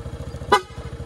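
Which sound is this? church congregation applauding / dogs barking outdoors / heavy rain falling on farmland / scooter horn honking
scooter horn honking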